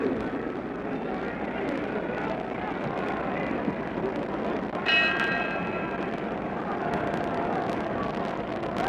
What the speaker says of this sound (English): We're getting ready for the bell for round 2.